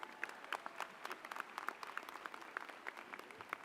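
A university convocation audience applauds the presiding chancellor, a fairly quiet, even spread of many hands clapping in a large hall, with sharp individual claps standing out across the whole stretch.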